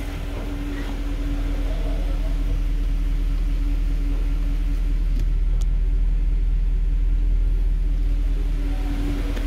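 A 2013 Mercedes C63 with 100k km idles after a cold start, a steady deep engine rumble with an even low hum, close by and unchanging, no voices over it.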